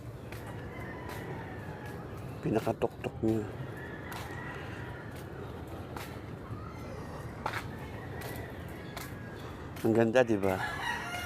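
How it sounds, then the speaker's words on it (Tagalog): Chickens cluck and a rooster crows repeatedly nearby during an early morning walk outdoors by bamboo, several bursts rising over steady background noise, with a person talking between them. "Daming manok."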